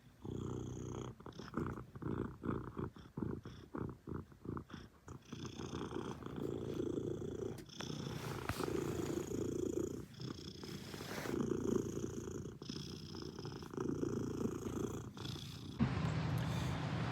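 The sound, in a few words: cat purring loudly while napping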